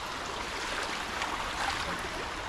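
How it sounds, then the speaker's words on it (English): Creek water flows steadily through woodland terrain in North Alabama, a broad continuous rushing wash heard up close with no talk over it. "This is a new creek, isn't it?"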